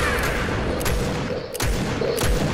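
Dense booming gunfire and a rattling fusillade from a video game, loud and continuous over a couple of seconds with a few stronger shots.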